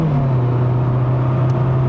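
A Mazda CX-30 High Plus Premium engine revs steadily from inside the cabin as it downshifts to first gear with rev matching, giving a loud, sustained low drone with no talk over it.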